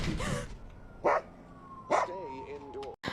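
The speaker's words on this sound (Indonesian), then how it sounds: "tiba-tiba si anjing milik tetangga menggonggong di depan pintu" A neighbour's dog barks and yips at a front door in a dramatised scene, three short separate barks over a quiet indoor background.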